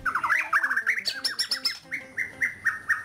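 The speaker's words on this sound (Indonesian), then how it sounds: "Nama burung Borneo ini keong" A white-rumped shama, a Bornean songbird, sings a varied series of whistled, chirping phrases up close, rich melodic notes with brief pauses between them.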